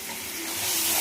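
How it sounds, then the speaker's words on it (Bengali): Garlic frying in a pan on a home stove while a beetroot dish is cooked, giving a steady, close sizzle with soft hissing that grows slightly louder toward the end. "রসুনটা ভাজা হচ্ছে এদিকে"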